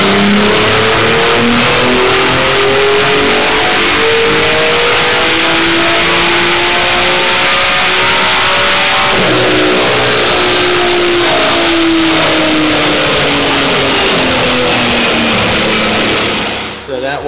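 A Nissan Z with a swapped-in GTR engine making about 640 horsepower revs loud and aggressive on a dyno, its pitch rising through a long continuous pull, then a brief dip and a second climb before cutting off at the end.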